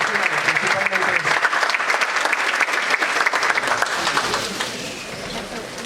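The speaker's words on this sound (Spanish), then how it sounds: "el aplauso para ustedes y que sean buenos profesionales" Trainees applaud at the close of a training talk on formwork and scaffolding, loud sustained clapping that thins toward the end, with voices mixed in.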